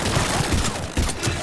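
Rapid, sustained gunfire in a Mass Effect 3 battle, loud and continuous with repeated punchy bursts throughout the short stretch.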